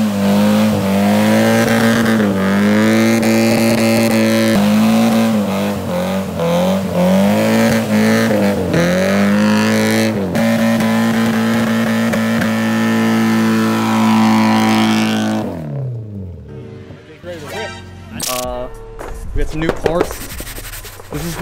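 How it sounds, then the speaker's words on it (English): A Nissan 240SX engine revs high and hard for a long stretch, its tone rising and falling, before the revving drops away into clicks and shuffling handling noise. "revving up as high as you want."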